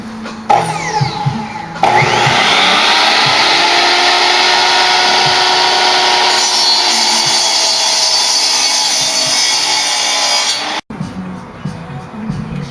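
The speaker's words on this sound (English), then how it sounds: "I'm cutting the 2x4s now." A power saw cuts 2x4 lumber for a garden box frame, whining loud and close in a long continuous pass of about nine seconds that ends abruptly, with brief voices and handling noise before and after.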